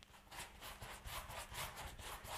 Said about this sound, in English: with the gesso, I'm just really forcing it down into that canvas